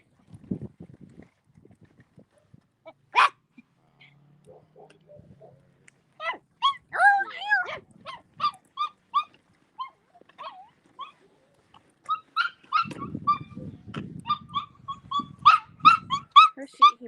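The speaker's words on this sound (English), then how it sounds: "Where's he barking at?" A dog barking and yipping outdoors, bursts of sharp barks and whines in uneven clusters, fairly close, with some rustling and brief talk.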